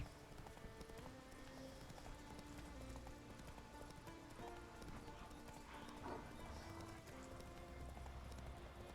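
Hooves of the horse Roach in The Witcher 3 pound in a fast, steady galloping clip-clop rhythm, close and continuous throughout with no talking.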